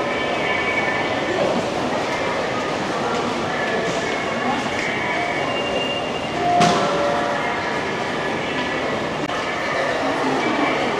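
A subway train in Jakarta runs with a steady, loud rumble and rail hiss throughout, a brief squeal or clack midway, while a person talks over the constant noise.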